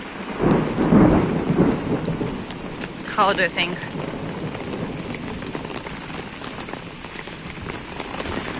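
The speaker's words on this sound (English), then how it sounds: "A small storm, guys, in Russia." Rain falls steadily in Moscow, Russia, while thunder rumbles low and heavy near the start; a person briefly speaks partway through, and the downpour continues to the end.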